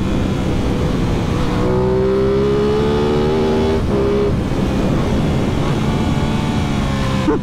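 Aprilia Tuono 660 motorcycle engine running steadily while riding, a loud continuous drone with rising and falling engine tones as the rider accelerates through a long curve, with wind noise throughout.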